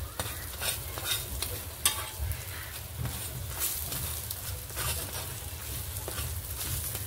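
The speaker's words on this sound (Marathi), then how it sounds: "आता आपण ना इकडनं छान शेकला असा खरपूस आपण परत याला पलटे करून घेऊया" Masala pav toasting on a hot pan gives a steady close sizzle with frequent scraping stir and flip sounds, and no talk.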